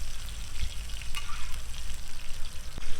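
Pomfret fish frying in a pan over medium heat, a steady close hiss and crackle of oil that runs on without a break and with no talking.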